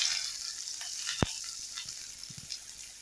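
Chopped onions fry in hot oil in a wok, a soft continuous sizzle with a sharp click from the pan just after a second and faint stirring scrapes later on.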